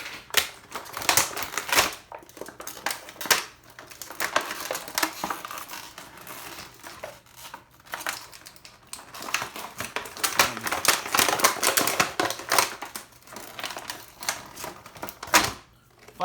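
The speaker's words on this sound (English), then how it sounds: "This piece of plastic was causing me some trouble." Stiff plastic action figure packaging is wrestled with at close range: bursts of crinkling, snapping and scraping as a piece of plastic is worked loose, coming in uneven clusters with brief pauses between.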